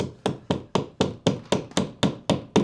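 Small hammer nailing a fascia board on a garden room build: eleven sharp, evenly spaced blows about a quarter second apart, each a crisp close knock on wood with a short ringing tail.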